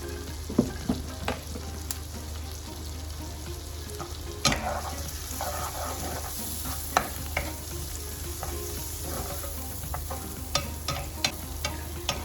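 Onions fry with salt and turmeric in a pan, the start of a carrot stir fry. A continuous sizzle is punctuated by frequent ladle taps and scrapes, close and clear, with no talking.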